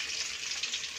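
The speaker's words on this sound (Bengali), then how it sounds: "তো মাছ ভাজছি।" Fish fries in a pan in a home kitchen, a steady soft hiss and sizzle heard alone for a brief moment.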